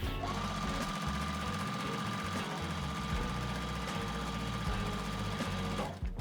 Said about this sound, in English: I'm going to just fold over the next one, and keep on sewing